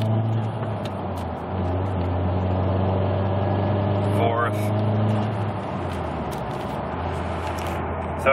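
A VW Passat B5 with a boost problem accelerates in second gear, its engine heard from inside as a steady, loud droning hum that rises slightly in pitch, then eases off toward the end.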